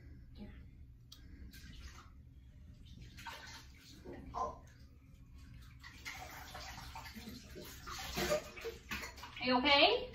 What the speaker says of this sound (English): My little boy, of course, is in the bathtub behind me